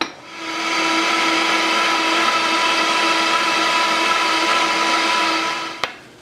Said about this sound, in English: Well, let's blend that up.